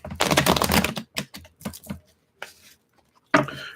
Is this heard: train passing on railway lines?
no